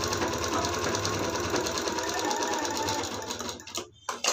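A sewing machine runs steadily while stitching a long blouse sleeve, its fast even whirring close and continuous for most of the stretch before slowing and stopping with a brief pause near the end.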